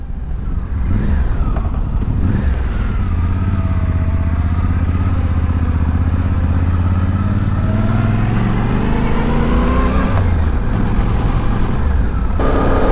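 A Suzuki V-Strom 800 DE adventure motorcycle being ridden, its engine droning loud and steady throughout with rising and falling revs as it pulls along, wind rushing over it and no talking.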